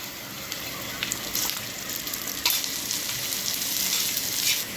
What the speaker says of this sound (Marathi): अशा प्रकारे लसूण भाजून घ्यायचा